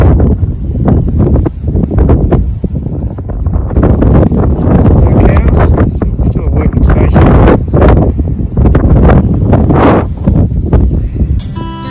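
Heavy coastal wind buffeting the microphone throughout at Shark Bay, Western Australia, loud low rumble with bursts and gusts, a voice speaking underneath at times.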